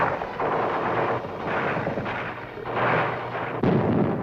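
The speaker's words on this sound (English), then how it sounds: "Gunfire roared in the streets" Gunfire in city streets during the Vietnam War rolls through as heavy, booming bursts, loud and continuous with dull blasts rising and falling, with no voices.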